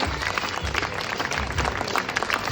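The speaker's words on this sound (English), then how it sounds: "Big round of applause." Continuous applause from a room of onlookers at a dressmaking catwalk show, a steady wash of many hands clapping at even loudness, with faint voices mixed in beneath.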